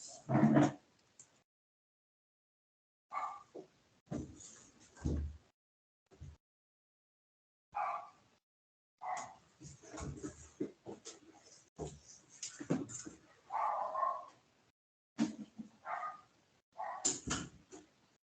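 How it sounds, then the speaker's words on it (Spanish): A small dog barks repeatedly in short, sharp bursts with pauses between, fairly close and clear, with no talking over it. "la perrita está ladrando ahora"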